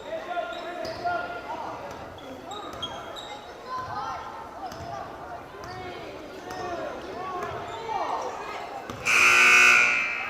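A loud electronic buzzer ends the third period of a middle school boys' basketball game, following basketball bounces, squeaking shoes and crowd murmur in a gym with people talking.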